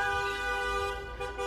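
A car horn held in long sustained toots as a car circles the streets celebrating after a football match, loud and close, alone without talk.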